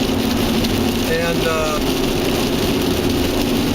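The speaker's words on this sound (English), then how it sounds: "since it's raining out" Rain falls steadily while driving toward the Mackinac Bridge, a dense constant hiss mixed with road and engine rumble inside the car, with a brief voice.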